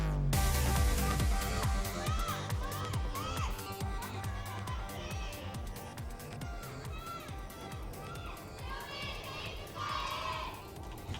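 An esports audience at an Overwatch match shouts and cheers together, a loud, dense roar of many voices with rising and falling bursts, close and busy throughout.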